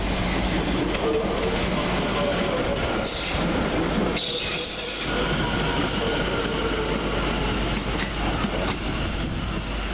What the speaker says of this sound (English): Arriving on the near side is 710107, arriving with the 1825 London Overground service from London Liverpool Street to Chingford